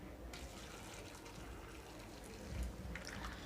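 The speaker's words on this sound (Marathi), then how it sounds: "त्यात आपण आता गरम पाणी घालून घेते" Hot water pours steadily into a bowl of fresh cashews with a continuous splashing gush, fairly close, swelling slightly toward the end.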